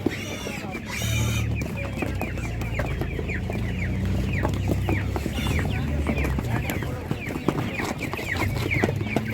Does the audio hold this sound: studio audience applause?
no